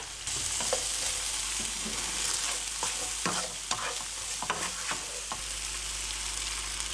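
Sliced onion sautéing in a frying pan, a close, steady hiss of sizzling overlaid with repeated scraping and clattering strokes of a utensil stirring.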